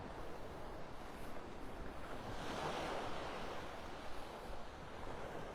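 Ocean waves wash onto a beach in North Naples, Florida, a soft continuous surf roar with some wind rustle, steady and fairly faint with no voices.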